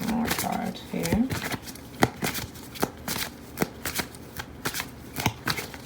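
Tarot cards being shuffled by hand close up, a rapid series of crisp riffling and slapping bursts in an uneven rhythm, with a voice speaking faintly at the start.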